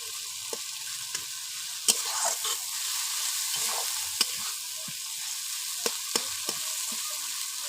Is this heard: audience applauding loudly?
no